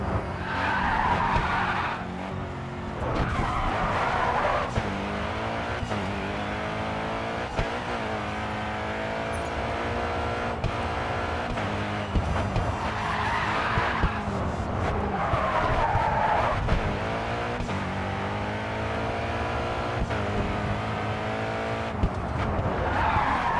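Race car from the GRID 2 racing game, an SLR GTR or GT, engine howling and shifting pitch through gear changes with recurring tyre skids and squeals, loud and continuous throughout.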